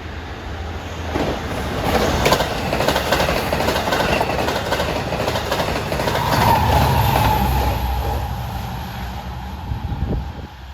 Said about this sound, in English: At 628 is a train with a famous number, 611, Port Jefferson to Long Island City.